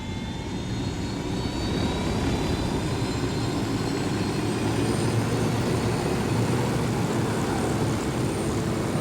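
A helicopter flying in the video game Ghost Recon Wildlands gives a loud, steady engine and rotor drone that holds evenly throughout without any break or voices.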